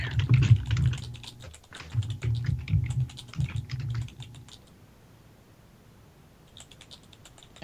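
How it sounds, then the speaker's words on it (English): Close computer keyboard typing in bursts of rapid key clicks, pausing briefly, then fading to near quiet before a few light taps return at the end. "He's just typing."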